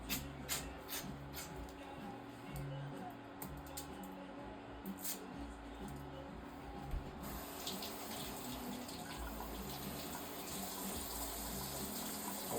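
Tap water running into a kitchen sink while peppers are washed, a steady soft stream with a rhythmic low thumping underneath and small clicks and splashes from handling, fairly quiet and without speech.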